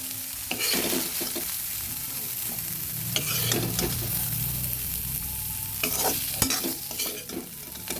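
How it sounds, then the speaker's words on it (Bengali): Soya chunks frying on low heat in a pan, a soft continuous sizzle with repeated close stirring scrapes and clatters of the spatula. "ওই জন্য হালকা আঁচে ভেজে নিচ্ছি সয়াবিনগুলো"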